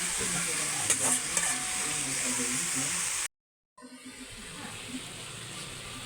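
Vegetables and cabbage sautéing for pancit bihon, a loud close sizzle with stirring scrapes, cut by a brief silent gap before the frying hiss resumes more quietly.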